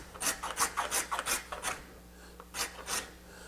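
A hand tool rasps across the end grain of a board, chamfering the edge in quick rhythmic strokes, about eight close scraping passes, then a pause and two or three more.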